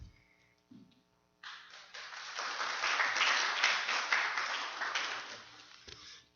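An audience at a church service applauds in a burst of clapping that rises quickly, holds for a few seconds, then fades out, heard after brief quiet sounds and without talk.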